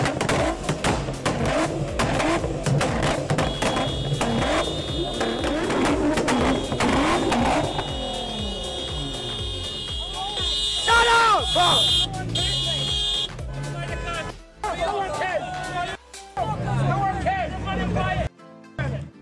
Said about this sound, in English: These two sports cars are seeing who can rev their engine the loudest, but this Prius gets so mad and honks their horn to try to ruin it.